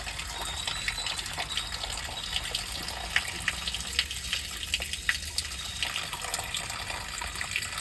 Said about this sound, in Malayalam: വീണ്ടും ചെളിവെള്ളമാണ് പോകുന്നത്